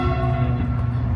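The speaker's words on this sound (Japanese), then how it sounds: "あれ電車の音。" Train rolling past at close range in Amiens, France, a steady, loud rumbling drone with a sustained tonal hum throughout, no voices over it.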